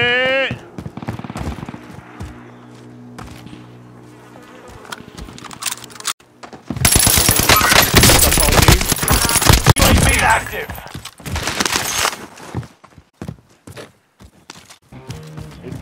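Bursts of video game gunfire crackle during a squad firefight, a dense loud volley in the middle after quieter stretches, with scattered shots afterward and voices talking over parts of it.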